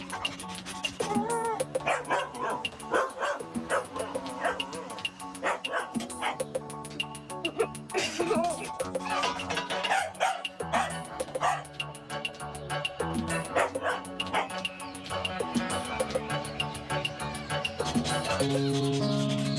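Dog barking and yipping in repeated bursts over a dense, continuous backdrop of music and sound, fairly loud throughout with no clear pauses.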